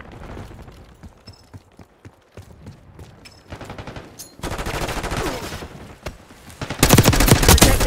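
Gunfire in the shooter game Call of Duty Black Ops 6 starts as sparse single shots and short bursts, then swells into dense, loud volleys of automatic fire and blasts.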